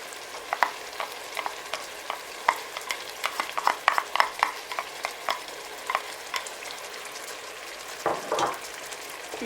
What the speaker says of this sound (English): Mix everything up.